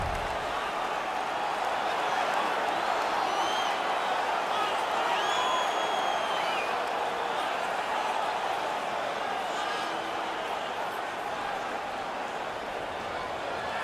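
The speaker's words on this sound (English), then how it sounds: "The crowd is so pumped right now." A hockey arena crowd in the NHL 19 video game roars in a constant, dense wash of cheering that stays level throughout.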